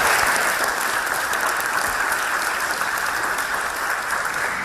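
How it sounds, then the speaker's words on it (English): An audience bursts into sustained applause, dense and loud clapping filling the room at an even level throughout, with no voices over it. "we can cut down on the applause"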